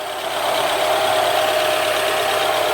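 A 1996 Citroën ZX Tonic with a 1.4 L petrol engine idles steadily nearby, a loud even hum with a faint knocking texture and no speech.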